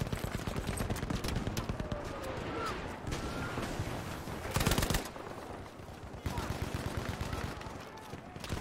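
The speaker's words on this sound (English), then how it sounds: "Watch this grenade." Loud video-game gunfire crackles in rapid bursts with a heavy grenade blast in the middle, from a stream of a Viking-themed game, the barrage continuing after the explosion.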